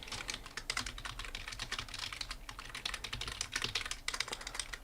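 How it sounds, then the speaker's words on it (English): Rapid, loud clicking of a computer keyboard being typed on, dense clattering keystrokes close up and continuous with no talking. "Sorry if the keyboard's super loud."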